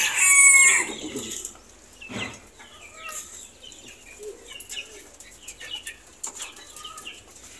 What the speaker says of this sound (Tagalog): Kita nyo naman, ang dami pa ring ibon.